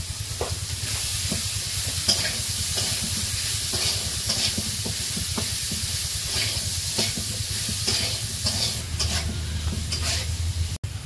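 Chickpeas and chopped boiled potatoes fry with spices in a village kitchen pan, a loud continuous sizzle and hiss broken by repeated stirring scrapes and knocks.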